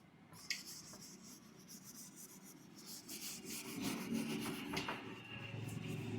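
A board being wiped clean of written Hindi grammar examples during a lesson, heard as a steady dry rubbing and scrubbing that continues for several seconds, close by and without talk.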